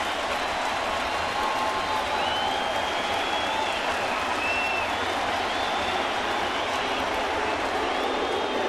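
A baseball stadium crowd of over 40,000 stands and cheers as the Chicago White Sox come down to a final strike in 2011, forming a steady roar of applause and crowd noise with some faint whistles.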